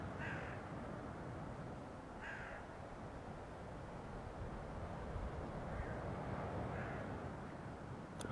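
Crows caw in a few separate, moderately distant calls near a bird park at a beach resort in Side, Turkey, in winter, spaced over steady outdoor background noise.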